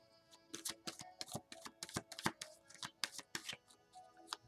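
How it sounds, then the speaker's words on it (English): A deck of tarot cards being shuffled by hand, a close run of quick riffling snaps and flutters in irregular bursts, fairly quiet and heard alone. "Last shuffle."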